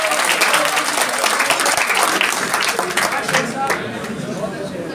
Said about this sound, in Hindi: जोरदार तालियों के साथ इस्तेमाल कीजिए